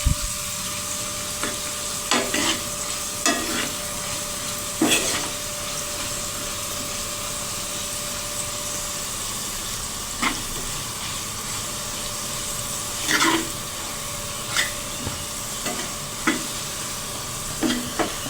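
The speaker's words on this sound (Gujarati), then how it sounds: "હું તેને હલાવીને આ રીતે મિક્સ કરી લઈશ।" Steady sizzling of chili powder frying in a pan over low heat, broken by scattered scraping stirs of a utensil against the pan.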